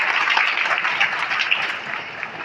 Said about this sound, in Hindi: एक बार तालियां बजाइए इस पर